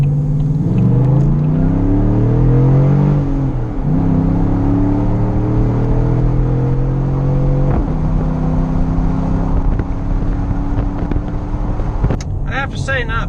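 A 2014-or-later Chevrolet Silverado pickup fitted with an aFe Momentum GT Pro Dry S intake accelerates through the gears, its engine rumbling loud and close with rising revs, brief drops at each shift, and sharp clicks and rattles near the end.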